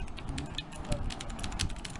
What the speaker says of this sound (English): So basically the mechanical keyboard is all about the sound you can hear while typing.